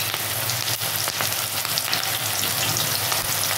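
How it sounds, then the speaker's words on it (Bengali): Okra pieces frying over low to medium heat in hot mustard oil for crispy bhindi fry, a steady dense crackling sizzle, close and loud, with no talking. "তো অলরেডি তেল গরম হয়ে গেছে বন্ধুরা, আর আমি এখন লো টু মিডিয়াম আছে এগুলোকে ভাজবো"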